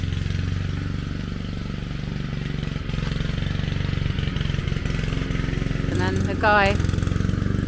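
A lawn mower runs steadily through a formal garden, a continuous mid-pitched engine drone heard under nearby talking, with a brief rising whine near the end.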